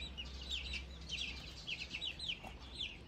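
Young chicks peep in rapid, high chirps, scattered and fairly faint over a low background hum, in a household yard in Taiwan.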